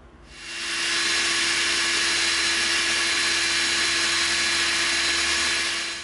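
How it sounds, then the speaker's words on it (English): A power drill bores a skinny pilot hole into EVA foam for a prop axe, a steady high whirring drone that spins up quickly and holds constant for several seconds, close and loud with no talk. "now we're going to drill a skinny pilot hole"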